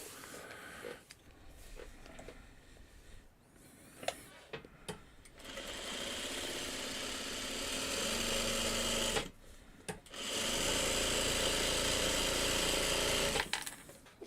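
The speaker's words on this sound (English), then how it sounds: "So I'm just gonna sew this one to one side." Sewing machine stitching quilt strings, running in long steady whirring bursts with short pauses and a few clicks between, close and clear.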